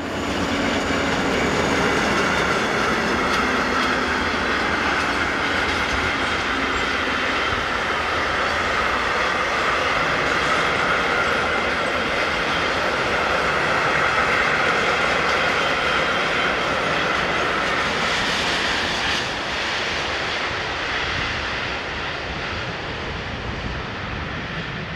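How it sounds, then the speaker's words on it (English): A train rumbles steadily past near Wunstorf, Germany, its broad roar and rolling wagon noise holding for the whole stretch with no voices. "Train 265025 is the next to appear with train 54072, the 1355 from Seelze to Eistrup."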